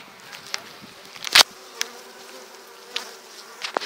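Honeybees at an opened beehive make a faint, steady hum, with scattered clicks and knocks of hive handling, one of them sharp and loud.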